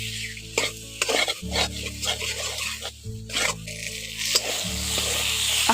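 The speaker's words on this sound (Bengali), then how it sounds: "এখন আলু টমেটো দিয়ে মশলার সঙ্গে একটু ভালো করে কষে নিচ্ছি" Potato and tomato pieces sizzle with spices in a pan, stirred and scraped repeatedly with a utensil in steady strokes, close and fairly loud, with a low hum running underneath.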